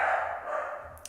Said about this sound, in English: I don't know why these dogs are barking so much.